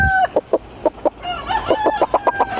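Gilmore Hatch gamecock rooster sounding off close by with a series of short, loud, rhythmic clucking calls, about a dozen bursts in quick succession, alone without talk.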